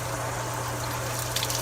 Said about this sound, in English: Oh, blowing a little water out